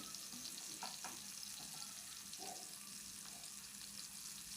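Potatoes and raw banana pieces frying in a pan with salt, turmeric and red chilli powder, a faint continuous sizzle with a few soft stirring scrapes.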